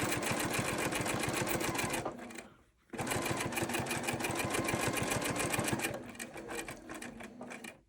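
Sewing machine stitching a cathedral window quilt, running in a fast, steady rhythmic stitch that pauses briefly, then resumes loud and close at the same even pace.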